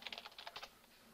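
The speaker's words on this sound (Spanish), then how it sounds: "Y escribe Synaptic y pulsa Enter." A short flurry of keystrokes on a computer keyboard, about eight quick soft clicks in rapid succession, faint and close, ending in quiet.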